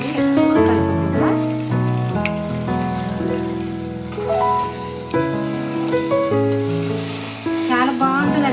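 Eggs tipped into a simmering chavlakai (cluster bean) curry sizzle steadily while being lightly mixed, the frying hiss running continuously beneath prominent background music.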